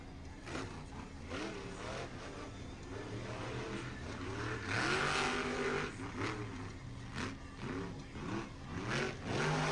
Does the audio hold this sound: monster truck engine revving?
yes